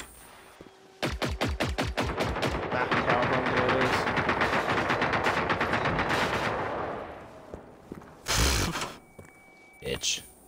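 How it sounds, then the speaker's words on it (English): Mag-dumping into an enemy in the video game Generation Zero: a long, loud automatic burst of rapid shots lasting several seconds, followed by a few heavy separate blasts, with a voice talking near the end. "You just stand right in front of him and dump ammo into him"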